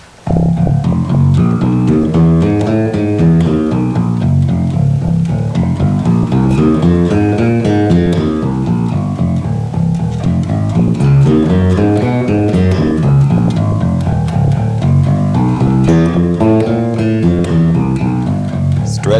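An electric bass plays a slow finger exercise, steady plucked notes stepping up and down in a repeating pattern, close and clear with no talking.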